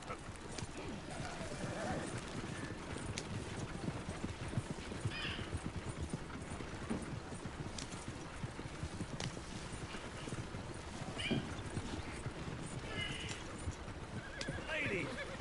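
Horse hooves clip-clop steadily while riding through trees in Red Dead Redemption II, with a horse neighing now and then and people talking over the continuous gameplay sounds.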